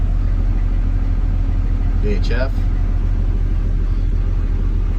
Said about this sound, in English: Normally this engine would idle at about 600 to 800